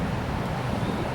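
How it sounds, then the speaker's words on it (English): Wind blowing outdoors in a small area beside a power box, pushing against a concrete wall, producing a steady, dense low rumble with continuous buffeting and no pauses. "So the wind is coming through here."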